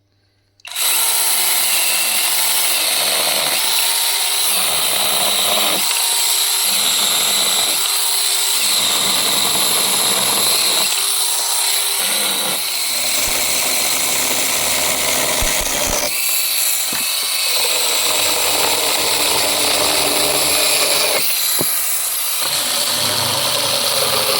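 A Lider mini chainsaw cuts small then thicker branches, its motor whining loudly and close, bogging and revving in repeated bursts as it bites through the wood.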